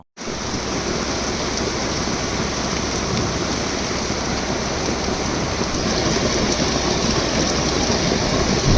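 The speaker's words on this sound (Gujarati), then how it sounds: "જોવો તો હવે અમારા ગામમાં ફૂલ વરસાદ છે" Heavy rain pours down in a dense, unbroken roar that grows slightly louder toward the end, with no voices.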